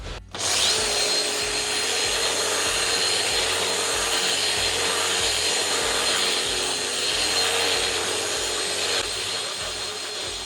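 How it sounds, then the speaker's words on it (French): A power sander works over the wood of a three-quarter-turn wooden staircase, a loud continuous whir with rhythmic pulsing as the tool passes back and forth, close and steady with no talking. "maintenant ponçage pour gagner du temps"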